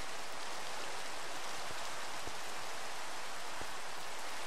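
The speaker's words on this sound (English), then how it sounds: "great sounds like it's raining" Steady rain in Minecraft hisses evenly throughout, a dense wash of falling drops with a few faint ticks, no voices.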